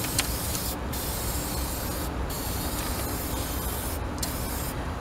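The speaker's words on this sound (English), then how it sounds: "I actually sprayed a lot on the back right here because I found out it was rusting in the wheel well" Rust cover paint is sprayed from a can into a car's rear wheel well. It gives a continuous close hiss with brief breaks between bursts.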